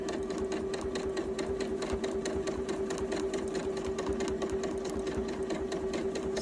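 Janome sewing machine, a 9480 or M8, fitted with an open toe free motion foot, stitching in a steady, fast, even mechanical whir with a constant motor hum, close and continuous throughout.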